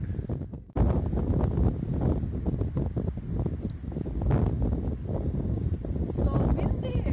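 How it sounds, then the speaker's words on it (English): Strong wind buffets the microphone in a constant roaring rush after a brief quiet start, with a voice speaking faintly beneath the gusts. "So windy."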